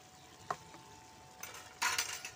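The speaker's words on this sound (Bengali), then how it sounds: "দিয়ে ভালো করে নাড়িয়ে নেব।" A spoon stirring sugared spinach curry with lentil dumplings in a pan, with soft faint scrapes and a light clink, then a brief louder burst of scraping and sizzle near the end.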